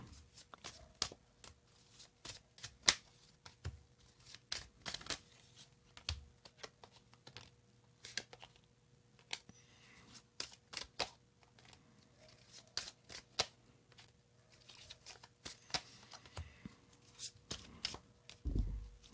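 Close, quiet cards being shuffled in a steady stream of soft, quick riffles and taps, with no talking.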